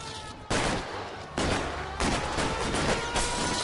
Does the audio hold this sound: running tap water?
no